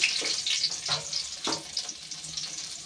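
Finely minced garlic fries in hot oil with a pinch of cumin for an egg do pyaza. A close, steady sizzle hisses throughout, with a few brief stirring bursts. No one speaks.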